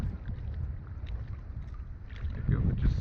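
On a Minnesota lake, a gust of wind buffets a standup paddleboard during a fishing trip. Low, rumbling wind noise swells near the end over faint lapping water.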